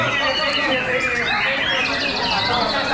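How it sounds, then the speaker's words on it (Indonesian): Bright, rapid song of a white-rumped shama at a songbird contest, varied whistles and trills sung loudly against a busy background of chatter and other birds. "nomor 14 Murai Batu Sayang namanya"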